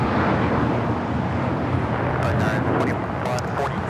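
Dassault Falcon 900 jet at LAX airport, a steady broad roar of jet engines heard at a distance under wind, with someone talking over it.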